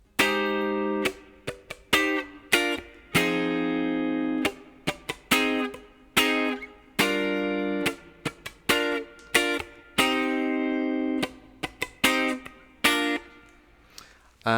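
Rhythm guitar plays a chord sequence with staccato strumming, short crisp chord stabs in a bouncy repeating pattern, each cut off sharply, played alone and close.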